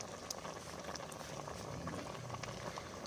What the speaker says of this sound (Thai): เดือดอีกสักพักหนึ่ง เดือดอีกหน่อย